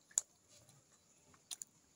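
Close, quiet chewing of tripe, with a few crisp wet bites and soft mouth sounds separated by pauses, no talk heard.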